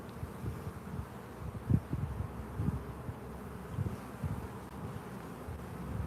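Honey bees buzz in a dense, steady drone around an opened, crowded hive in a bee yard, close and continuous, with light wind noise and no talking.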